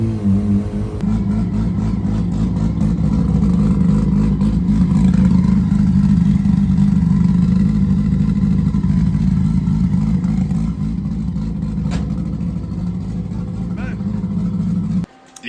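A turbocharged Mazda RX-8 with a bridgeported Renesis rotary engine revs loud and close for about fifteen seconds, with a steady droning roar that tapers slightly near the end. Voices are not clearly separated from the engine noise.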